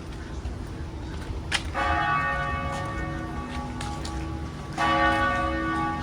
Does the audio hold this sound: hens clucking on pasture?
no